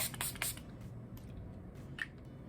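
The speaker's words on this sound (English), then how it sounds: "this is the Revolution Pro Fix Oil Control Fixing Spray, so just a couple sprays of this" A couple of short, soft hissing bursts from a Revolution Pro Fix Oil Control Fixing Spray, misted close by in a quiet room during a makeup routine.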